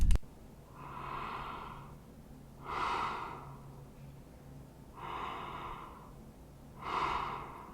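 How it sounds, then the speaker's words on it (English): A video game character's slow, rhythmic breaths in Fortitude, four distinct airy inhales and exhales spaced about two seconds apart, close and somewhat filtered, with a faint steady hum beneath. "you can hear the new breathing sound"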